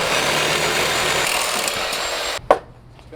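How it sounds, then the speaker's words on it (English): A Sawzall reciprocating saw cuts through steel tube during fabrication of an off-road bash bar, a loud, continuous buzzing rasp up close that stops abruptly, followed by a sharp clank and quiet. "Sam has his Sawzall."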